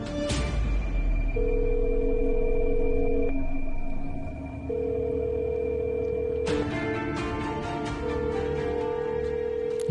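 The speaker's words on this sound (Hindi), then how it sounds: "ये फोन भी नहीं उठा रही" A phone rings through a handset, long steady tones repeating with pauses between, going unanswered against a low background rumble.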